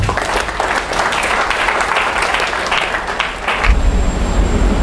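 A crowd claps steadily for several seconds, a dense wash of applause that cuts off abruptly near the end.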